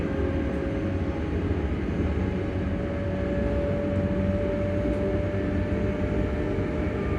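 Onboard a ScotRail Class 385 electric train, a steady low traction motor hum with a sustained tonal whine above dense rumbling rolling noise, constant and loud throughout with no talking.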